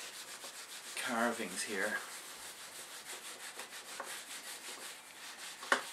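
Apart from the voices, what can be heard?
wire wool scrubbing residue from carved wooden reed organ case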